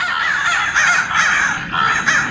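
Several crows caw loudly and repeatedly, close by, in the New Jersey Pine Barrens, their harsh calls overlapping in a steady run with only brief pauses.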